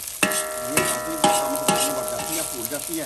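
Panjiri ingredients frying in a pan, with a steady background sizzle broken by about four sharp, ringing metallic clinks of a utensil against the pan, while a voice speaks briefly.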